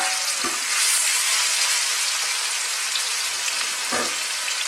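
Spiced pork dropped into hot sunflower oil in a wok, a loud continuous sizzle that flares as the meat goes in, with a couple of short stirring knocks.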